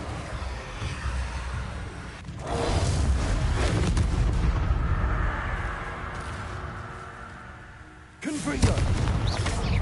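Bombarda spell explosions in Hogwarts Legacy boom and rumble in a dense, continuous wash of blasts, with sharper impacts near the start and end.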